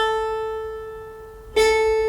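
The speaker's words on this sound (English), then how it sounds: "And the same note on the upper manual" The tail of one harpsichord note fades, then the same note is plucked again on the upper manual, a crisp bright attack ringing with strong overtones and no voices.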